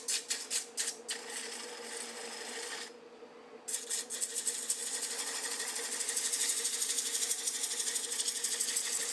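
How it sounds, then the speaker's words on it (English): Sandpaper rasps against a spinning curly maple bowl on a wood lathe in close, continuous scratchy friction with a short dip partway through, then the rubbing grows steadier and louder. "I sanded the outside of the bowl down to 320"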